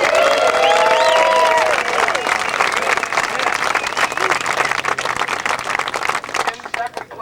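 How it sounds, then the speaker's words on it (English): An audience at the 2000 PDGA disc golf world championships applauds and cheers for disc golfer Jesper Lundmark, a loud continuous roar of clapping with whistles at the start that gradually thins out. "please give a big round of applause for Jesper Lundmark"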